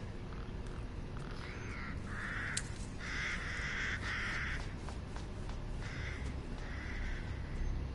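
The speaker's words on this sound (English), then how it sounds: "I like crows. They're supposed to be really intelligent," Crows caw in the horror game Resident Evil Village, harsh repeated calls in short bursts against a low ambient background, moderately near and fairly faint.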